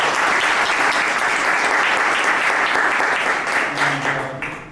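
An audience at a university venture competition final event applauds the title sponsors, loud sustained clapping that fades near the end as a voice begins to speak.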